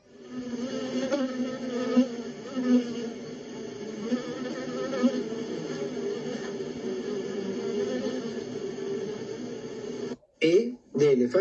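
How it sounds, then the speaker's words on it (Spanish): A steady, close insect buzz drones continuously, like a bee hovering, with a brief rustle and throat sound near the end. "A de abeja."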